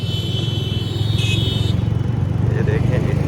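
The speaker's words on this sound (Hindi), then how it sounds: "गाड़ी स्टार्ट हो चुकी है और जाने लगी है" A motorcycle engine idling then revving as it pulls away at night, a steady throbbing putter close by that grows slightly louder, with someone talking over it.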